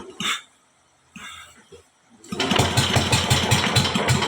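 An outboard boat engine catches after two faint cranking attempts and settles into a loud, steady, throbbing idle that runs close and continuous to the end.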